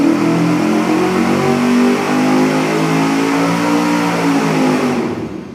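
A V8 engine on a dyno revs hard through a cheap louvered-tube muffler with open louvers facing the airflow, a loud, sustained roar with a rising drone that holds steady and then drops off at the end.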